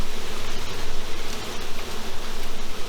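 Honey bees swarm around an open hive, a loud, continuous, close-up droning buzz with no voices.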